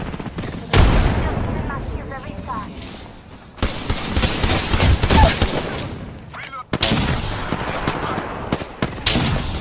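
Loud booming explosions and bursts of gunfire in a busy Apex Legends game mix, with voices shouting over the action.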